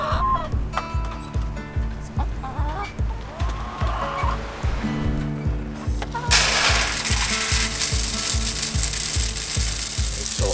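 A homemade automatic chicken feeder dispensing feed with a rapid, steady mechanical ratcheting click, joined by a rush of pouring grain partway through, while chickens cluck nearby.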